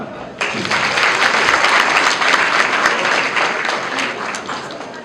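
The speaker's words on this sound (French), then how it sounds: "Je vous prie de vous applaudir." A crowd at a Guinean embassy national day celebration breaks into sustained applause, dense clapping that starts abruptly and holds steady, fairly loud, tapering slightly toward the end.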